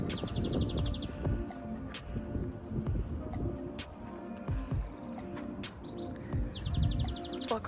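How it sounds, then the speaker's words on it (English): Bird song outdoors at a hilltop nature spot, with repeated chirps and short trilling phrases over a busy background of rustling, wind and scattered low noise, fairly distant and continuous throughout. "This bird is really making some music right now."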